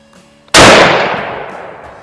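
A single loud, sharp report from a CZ VZ24 bolt-action rifle in 8mm Mauser, fired on a 100-yard range, ringing out and decaying over about a second and a half after a quiet start.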